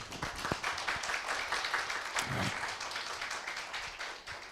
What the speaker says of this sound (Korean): 큰 격려의 박수 한번 부탁을 드립니다.